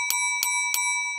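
Three evenly spaced bright electronic doorbell dings ring with a sustained metallic tone, clear and close with nothing else audible.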